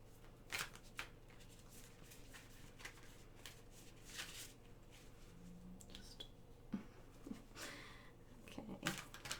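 Tarot cards shuffled by hand during a card reading, a soft riffling and flicking of the deck in quick bursts, close and fairly quiet, with small taps and rustles between.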